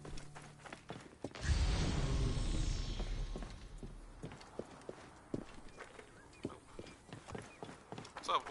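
Horse hooves in the video game Assassin's Creed Origins, a burst of rumbling movement followed by scattered clip-clop steps, fairly quiet overall.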